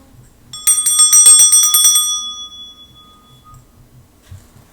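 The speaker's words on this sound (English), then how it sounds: "I'm going to start by clearing the energy with my bell." A handheld bell struck once for an energy-clearing ritual at the start of a tarot reading, its bright metallic ring with high overtones sounding close and clear, then decaying over about two seconds into near silence.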